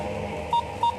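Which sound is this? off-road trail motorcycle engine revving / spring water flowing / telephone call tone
telephone call tone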